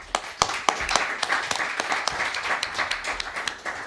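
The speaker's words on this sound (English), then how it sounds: "Applause also." Applause from a talk-show audience at a breakdance event, a thin scattering of claps with a few sharp louder hits over steady background hubbub, moderately close, with faint voices.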